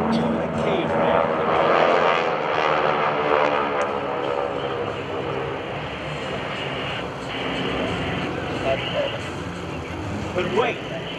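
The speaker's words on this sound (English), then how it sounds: "radial engine, the Pratt & Whitney R1340" GEICO Skytypers vintage planes with Pratt & Whitney R1340 radial engines performing at a military base airshow, a loud continuous propeller drone passing overhead, with an announcer talking over it.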